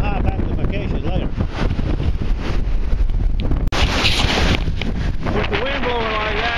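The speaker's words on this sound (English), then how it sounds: "With the wind blowing like that" Strong outdoor wind buffets the microphone in loud, rumbling gusts that fill the whole stretch, with a brief dropout midway and a voice faintly present under the roar.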